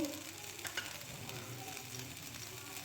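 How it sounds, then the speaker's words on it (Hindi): Pre-boiled chicken pieces fry briefly in a pan for stuffed cheese cutlets, a soft, even sizzle with light stirring scrapes, quiet and close, with no talking. "ये चिकन हम डालेंगे, चिकन को हम थोड़ा सा फ्राई होने देंगे।"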